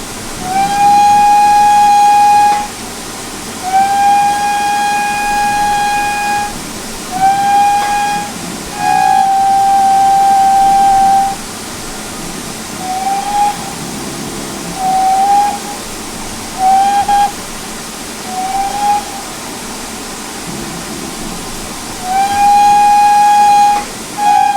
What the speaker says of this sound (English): you can listen to the whistles right here